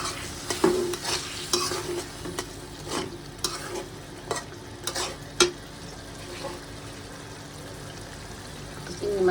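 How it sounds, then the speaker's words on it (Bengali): Medium-sized prawns go into a pan of fried spice paste and are stirred, with a low continuous sizzle broken by sharp scraping and clacking of the spoon against the pan, in irregular bursts. "মশলাটা কষানো হয়ে গেছে। তো এখানে আমি চিংড়ি মাছগুলো এই যে দিয়ে রেখেছিলাম দিয়ে দিচ্ছি।"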